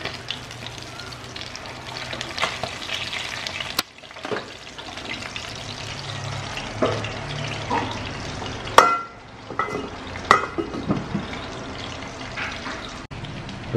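Continuous close sizzling and crackling of tilapia frying in hot oil, with occasional clinks and scraping of a utensil.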